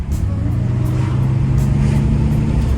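A car engine hums steadily from inside the vehicle, its low drone rising slightly in pitch as it speeds up, with no talking.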